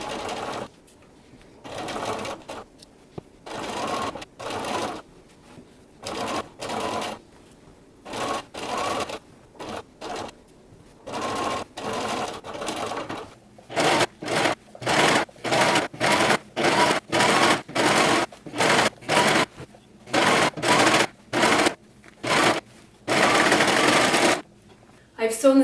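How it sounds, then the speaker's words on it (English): A sewing machine and serger stitch blouse sleeve seams in repeated bursts, short starts and stops at first, then faster, longer runs close to the microphone, with brief quiet gaps between. "I've sewn the sleeves back in and I've serged the edges"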